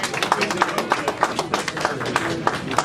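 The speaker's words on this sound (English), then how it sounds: "A round of applause, please." An audience applauds honorary fellows being admitted at an institute ceremony, a sustained wash of clapping with distinct claps standing out in a quick, fairly regular rhythm, moderately close, steady throughout with no talking.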